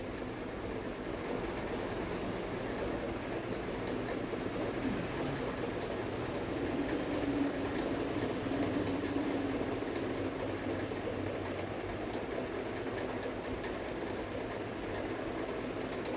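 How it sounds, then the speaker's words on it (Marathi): A sewing machine stitches piping all the way around a fabric bag, running as an unbroken, steady mechanical whir at even volume throughout. "पूर्ण राऊंडला आपल्याला शिलाई देऊन घ्यायची आहे"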